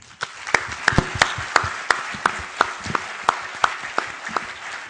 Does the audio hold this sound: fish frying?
no